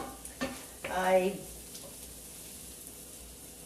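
Chopped onions sizzling in a pan as the base for pasta e fagioli, a soft continuous frying hiss with a brief stirring scrape near the start, fairly quiet and close.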